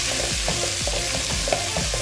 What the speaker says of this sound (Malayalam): നമുക്കിതിനെ നന്നായിട്ടൊന്ന് വഴറ്റി കൊടുക്കാം